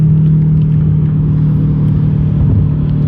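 A BMW M8 and an E92 M3 driving, heard as a steady, loud low engine drone and road rumble that holds unbroken throughout, with no talking.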